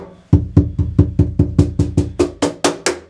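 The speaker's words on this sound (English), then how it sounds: "Now when we turn on the snare" A Nautilus bamboo cajon with its snare engaged gives a steady series of about a dozen crisp hits, each with a short buzzy rattle over a clean low thump, close and loud with no voices.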